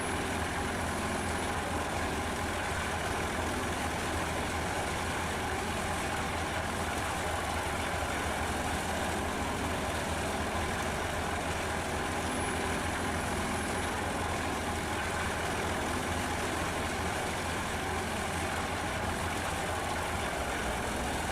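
Truck engine idling, a steady continuous low rumble that holds at an even level throughout, with no voices.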